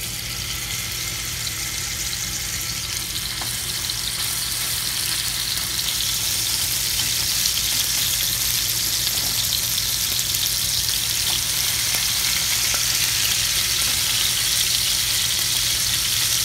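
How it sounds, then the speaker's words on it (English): Cubes of seasoned beef chuck roast searing in a pan give a loud, continuous sizzle and frying hiss that holds steady throughout, close up and alone without talk. "So right now what I'm doing is I'm just searing them a little bit, getting a little bit brown"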